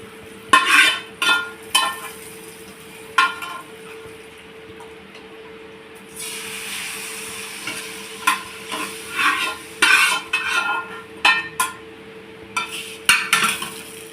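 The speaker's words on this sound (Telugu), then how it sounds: "ఈ రసం గిన్నె ఇక్కడ దీంట్లోనే పెట్టేసుకొని ఈ పోపు ఏదైతే ఉందో మొత్తం దీంట్లోకి షిఫ్ట్ చేసేసుకుందాం" Tempering poured into a pot of horse gram rasam and stirred in, with bursts of metal spoon scraping and clinking against the vessel over a faint sizzle and a low steady hum.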